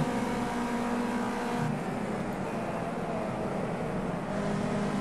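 Race car engine at Bathurst in Project CARS 2, a steady loud droning roar that holds a sustained note under throttle with a brief dip partway through, no voices over it.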